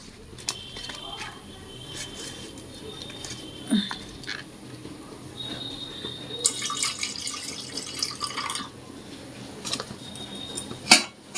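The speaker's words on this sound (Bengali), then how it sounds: "এই যে আলুগুলো ধোয়া হয়ে গেছে আর একবার ধুয়ে নিব" Potatoes being rinsed in water in a home kitchen, giving soft splashing, dripping and patter with a few sharper clinks of a pot, close by and fairly quiet.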